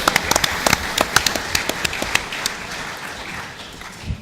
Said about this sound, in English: a big round of applause, please, for our excellent comedy duo there, Lindsay and Jim